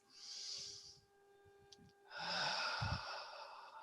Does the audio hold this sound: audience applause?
no